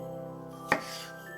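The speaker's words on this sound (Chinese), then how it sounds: "小番茄切成4块，" A single knife chop through cherry tomatoes on a cutting board, one sharp close cut standing alone against a quiet kitchen background.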